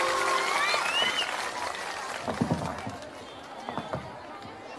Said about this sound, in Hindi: एक बार जोरदार ताली बजाइए आदरणीय प्रसाद जी की